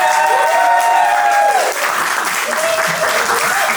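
An audience at a short film panel claps and cheers, dense and loud, at the close of the session, while a speaker's voice carries over the applause.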